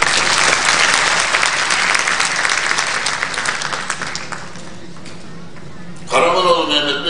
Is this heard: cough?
no